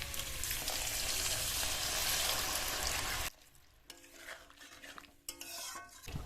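Water poured into a frying curry pan with red chilli powder and ginger paste, a loud steady rushing sizzle for about three seconds that drops abruptly to quieter bubbling and a few utensil clinks, close and without speech.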